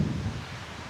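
Wind sweeps through tree leaves on a mountain hiking trail, a soft, steady rustle that fades slightly, with no voices.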